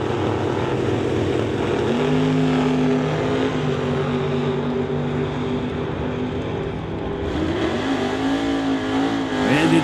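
Drag race launch at T&T Motorsports West Coast Classic in Mission, BC, a 1970 Duster against a 1992 Firebird: loud, continuous roaring engines with rising revs, a steady wall of exhaust noise that surges again near the end, no talk.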